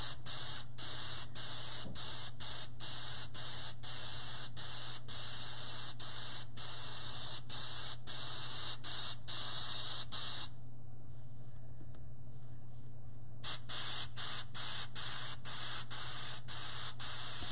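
Steady hissing airbrush paint spray with rapid on-off pulses, close and continuous, pausing briefly in the middle before resuming, over a low electrical hum.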